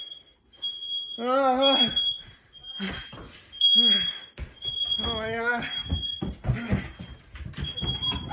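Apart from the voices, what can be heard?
smoke alarm going off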